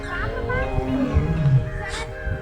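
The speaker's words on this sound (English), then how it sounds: "But I was interested only in one of them, the majestic white tiger." Captive white tiger at Vizag Zoo giving a low, rumbling growl-roar, moderately close and fairly loud, mixed with some background voices.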